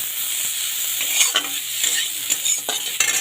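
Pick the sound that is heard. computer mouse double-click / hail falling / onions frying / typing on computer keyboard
onions frying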